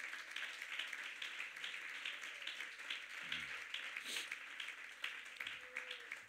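A church congregation applauds in praise during a Spanish-language sermon. The clapping is dense, steady and fairly soft, heard from a distance, with a faint voice or two underneath.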